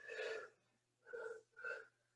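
Three short sneezes in quick succession during a yoga class, close and fairly soft, with pauses between them and no talking.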